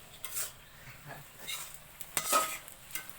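A grandmother stirring a pot of fish curry made with mola fish: faint scraping and clinks of a spoon against the pot in a few short bursts, quiet and close, with no talk.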